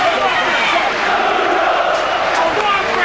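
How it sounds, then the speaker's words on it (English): A large boxing crowd at Wembley Stadium at night chants the name Bruno, a dense, continuous roar of many voices that holds steady and fills the whole space. "Chants of Bruno, Bruno, from this very healthy-looking crowd, filling the night air at Wembley Stadium"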